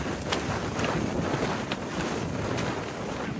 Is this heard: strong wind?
yes